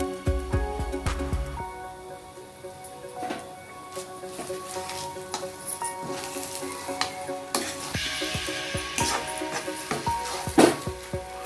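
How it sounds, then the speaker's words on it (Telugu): Potato upma curry sizzling and frying in a pan as lemon juice is stirred through, a steady crackling hiss with spoon scrapes and knocks against the pan, close and continuous. "ఇలా నిమ్మకాయ పిండుకున్న దాన్ని శుభ్రంగా అంతా కలిసేలాగా కలపాలి"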